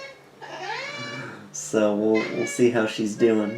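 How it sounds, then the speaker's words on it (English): A cat meows close by in a long, rising cry at the start, then someone talks while further short meows mix in with her voice. "if you can hear the meowing, the cat has decided to come say hello"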